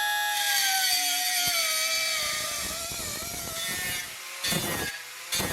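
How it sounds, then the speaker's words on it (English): Old hand cutter slicing through a metal wedge during inner wheelhouse fabrication, a loud continuous grinding whine that thins and roughens toward the end, broken by two short harsh bursts, no voices. "So I'll cut that with my old hand cutter here, and let's do it."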